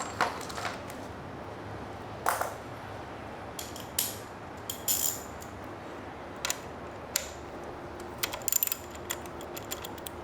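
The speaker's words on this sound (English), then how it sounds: "The next thing to do is to pull this 5mm bolt out of the side." A 5mm bolt being removed from the side of an Aprilia RSV4 motorcycle during a shift brace install: small ratcheting clicks and metallic taps come in scattered short bursts over a steady low background.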